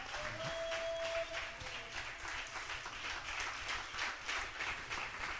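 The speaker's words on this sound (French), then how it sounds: "Acclame Jésus à qui appartient toute la gloire" A church congregation applauds during a sermon, a dense, steady wash of clapping from many hands that carries on evenly throughout, somewhat distant and soft.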